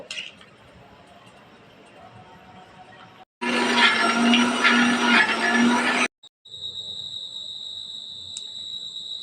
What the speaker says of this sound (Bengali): এই যে রসুনগুলো এখন ব্লেন্ডারে